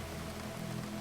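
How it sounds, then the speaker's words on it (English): Last drops of rain falling from the eaves make a soft, steady patter, quiet and continuous over a short moment with no voices. "Outside, the last drops of rain fell from the eaves, soft as lullabies, gentle as blessings."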